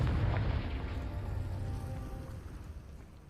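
Confringo fire spell from Hogwarts Legacy: a heavy, low boom that erupts at once, then rolls out as a rumbling decay, loud and alone with no voices.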